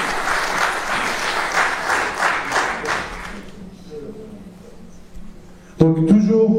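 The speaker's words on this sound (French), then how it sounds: "Merci de les applaudir." An audience at a tech meetup on data mesh gives a burst of applause that fades away after about three seconds, followed by a quiet pause before a voice starts speaking.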